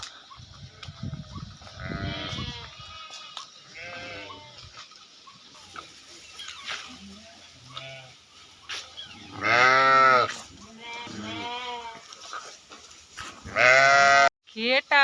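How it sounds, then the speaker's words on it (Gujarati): A flock of sheep bleating close by, several animals calling over one another in bursts, with a louder cluster of bleats near the end. "ઓ ઘેટા ઘેટા ધણ નીકળ્યું ઘેટાનું આખું"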